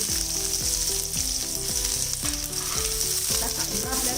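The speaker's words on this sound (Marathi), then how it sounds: "आता यामध्ये आपण कांदा घालायचा स्लाइस करून।" Sliced onion hits hot oil with bay leaf and caraway, giving a loud continuous sizzle and crackle close up, with occasional stirring scrapes and no voices.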